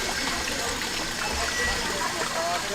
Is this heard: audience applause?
no